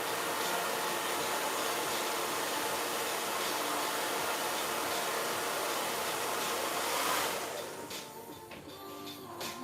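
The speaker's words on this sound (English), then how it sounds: "So let's use the blow dryer." A blow dryer runs on hair being styled into feed-in braids with ponytails, a loud steady whoosh that continues without break before dropping off and quieting near the end.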